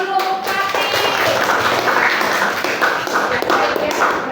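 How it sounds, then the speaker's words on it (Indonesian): A classroom audience claps together for a student, a brief burst of quick hand claps over a few seconds with some voices mixed in. "tepuk tangan dulu untuk Pati."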